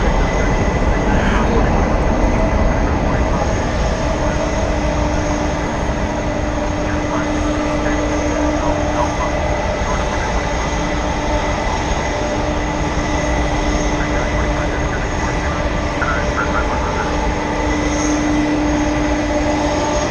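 An American Airlines jet at DFW Airport gives a steady, loud roar of engine noise that holds for the whole stretch, with a faint droning whine and people talking nearby.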